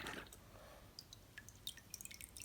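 Jacquard marble art paint drips off freshly dipped shoes, faint scattered drops and small splats falling irregularly over soft background noise, close and quiet with no talking.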